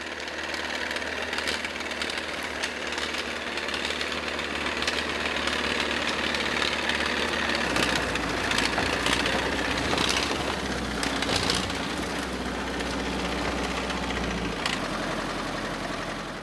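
A tractor engine runs in a steady, rumbling chug with a knocking edge while hauling through a Siberian mountain forest at a logging site. It stays loud and close the whole time, with faint rattles and clanks over the drone.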